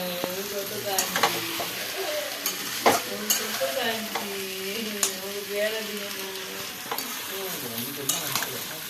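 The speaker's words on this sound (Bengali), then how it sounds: "এখন মাংস কষা চলছে" Spicy mutton being sautéed in a pan, with a steady sizzle and repeated scraping stirs through the whole stretch; a voice speaks faintly in the background.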